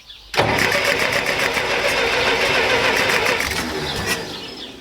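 A Massey Ferguson 65 tractor's engine cranks and catches abruptly, then runs loud and close at a steady, slightly rough clatter, easing off a little at the end.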